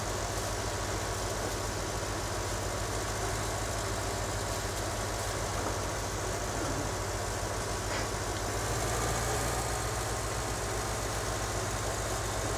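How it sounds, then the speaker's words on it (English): A tractor engine runs in the Farming Simulator 19 video game with the Alpine DLC. It gives a steady, continuous low drone with a broadband hiss that holds constant throughout, with no speech. "Good looking tractor."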